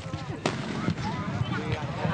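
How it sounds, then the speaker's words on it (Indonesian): Firecrackers set off in turn at a loudness contest, a couple of sharp bangs standing out over crowd noise, with a voice talking underneath. "Para peserta diberi kesempatan untuk meledakkan petasan yang bergantian."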